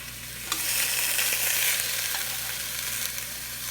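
Pieces of venison osso bucco brown in a Dutch pot, giving a loud, continuous sizzle and fry that starts abruptly and holds steady with small spits and crackles.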